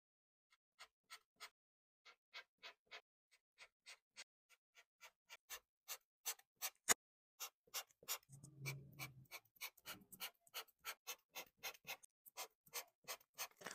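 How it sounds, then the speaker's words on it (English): A Midliner highlighter writing on regular paper makes a series of crisp, close scratchy strokes in an irregular rhythm that speeds up over time, with a brief soft rubbing sound partway through. "Why are highlighters so loud?"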